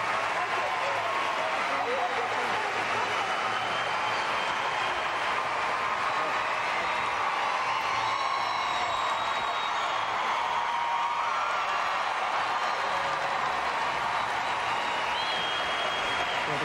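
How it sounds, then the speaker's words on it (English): After a gymnastics routine at the 2003 World Championships, an arena crowd cheers and applauds in a dense, steady roar lasting the whole time, with whoops rising above the clapping and a commentator talking over it. "And the crowd is showing how much they appreciate her performance."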